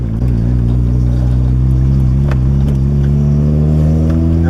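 A Mazda RX7 FD on a test drive, its rotary engine droning steadily from inside the cabin with rising revs, loud and continuous with no talking.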